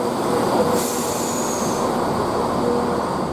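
A train rolls past a platform on the Spa Valley line with a steady close rumble of wheels on rails, faint wheel squeals and a brief high whine rising partway through.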